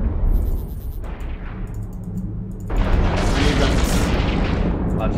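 Rumbling booms and bursts of gunfire fill a video game battle, with dense, continuous noisy impacts swelling louder in the second half and a voice talking over parts of it.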